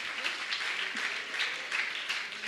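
Audience applause at an honouring ceremony in a religious gathering, a fairly faint but continuous wash of many hands clapping from a crowd, swelling slightly in pulses without a break.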